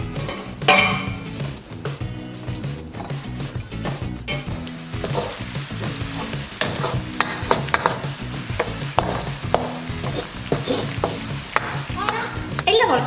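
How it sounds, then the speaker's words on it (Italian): Chopped onion sizzles and browns in a pot for goulash, stirred steadily with a steady frying hiss and scraping over background music, no talking. "Aggiungiamo adesso la cipolla e facciamo dorare."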